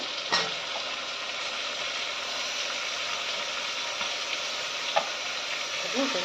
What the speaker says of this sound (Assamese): এইফালে মাংসখিনি ধুনীয়াকৈ ভাজি আছোঁ